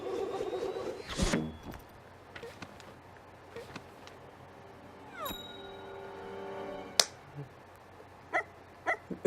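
A dog gives a few short yips and whimpers amid quiet background sounds and faint voices during an animated show scene.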